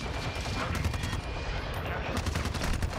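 Gunfire in Modern Warfare 2 rattles in rapid bursts of automatic shots, dense and loud over a rumbling game soundscape, with no talk.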